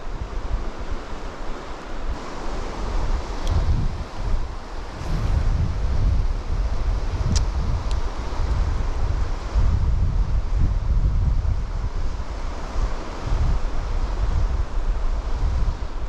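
Wind gusting across the Waimakariri River, a steady rough roar of microphone buffeting with surging low rumbles and flowing water beneath, continuous and close.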